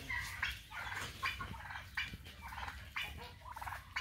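Turkeys gobble repeatedly in quick rattling bursts, several calls overlapping at a moderate distance with short pauses between; one is a tom.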